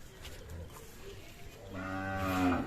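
On a farm holding native-breed cows with their bull calves, quiet ambient shuffling gives way to one long, close, resonant moo that swells and then fades.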